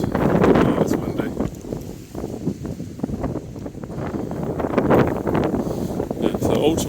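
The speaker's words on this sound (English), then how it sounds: "Oh, it's windy." Wind buffets the microphone in steady gusty rumbles while a person talks over it outdoors.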